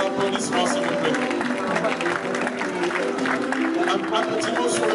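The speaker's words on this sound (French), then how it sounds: "Sous vos applaudissements, s'il vous plaît." An audience at an evening gala in Hotel Memling claps in a dense, continuous patter, mixed with crowd voices and a sustained tonal layer.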